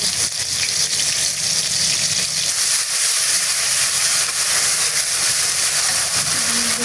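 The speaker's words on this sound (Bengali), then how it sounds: "মশলাগুলো একটু ভাজা ভাজা হয়ে গেলে দিয়ে দেব চিটাকে।" Spices frying in a pan for a chicken curry with papaya and potato produce a loud, dense, continuous sizzle close to the microphone, with no talking.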